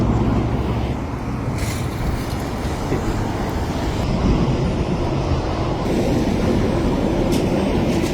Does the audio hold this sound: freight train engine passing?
yes